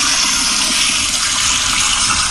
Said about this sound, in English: that's one of the actual power flusher toilets that I have in my house